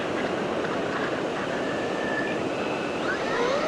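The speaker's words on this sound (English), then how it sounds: "And bringing her back, taxiing along the dry sand" A C-17 Globemaster model aircraft taxis across dry beach sand, its small engines giving a steady, continuous whine with rising and falling pitch over a broad rush of surf and wind. No one speaks.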